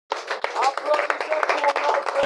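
An audience claps at a French-language public gathering, a quick cluster of hand claps rising sharply and continuing in a loose patter, with a voice talking over the clapping.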